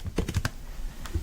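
Typing on a computer keyboard while entering text in a note-taking app: a quick cluster of four or five key clicks, a short pause, then two more taps, close and clear with no voices.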